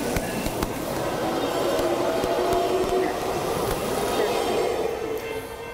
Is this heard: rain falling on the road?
no